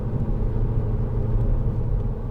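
Steady low engine drone and road rumble from a 2010 SEAT Leon 2.0 TD FR diesel cruising in third gear, heard from inside the car at an even, unchanging pitch.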